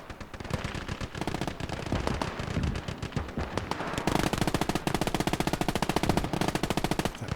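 Sustained machine-gun fire in the World War II game Gates of Hell, set in Operation Lüttich. Rapid bursts hammer close and loud, and after a brief lull they resume as an unbroken, denser stream.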